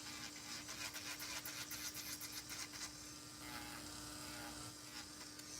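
An electric nail file with a sanding band smooths gel nails, giving a faint, steady high-pitched buzz with short rhythmic pulses in the first half as the band passes over the nail, close up and without talk.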